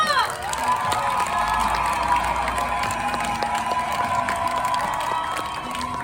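Crowd noise with cheering and clapping at a memorial ceremony in Daegu fills the clip, a steady roar of many people throughout, with scattered shouts above it.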